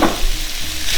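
Beef hits a hot pan slick with rendered chorizo fat and sizzles sharply, a bright, continuous hiss of frying that stays loud and close throughout with no voices.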